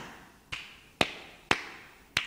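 Sampled hand claps from a Casio WK-240 keyboard beat out a steady pulse of four crisp, bright hits about half a second apart, the first softer than the rest, alone without any voice.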